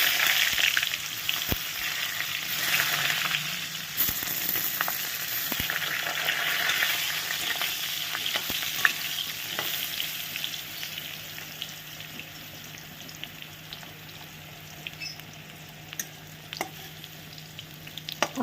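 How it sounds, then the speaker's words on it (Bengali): Eggplant frying in a shallow layer of oil over a lowered flame, a steady close sizzle with faint crackles and occasional clicks, going on alone for the whole stretch. "এই তেলের মধ্যে আমি অল্প একটু বেগুন ভেজে নেব।"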